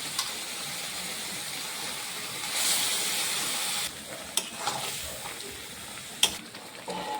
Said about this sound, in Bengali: ম্যারিনেট করা মাংসটা দিয়ে দিলাম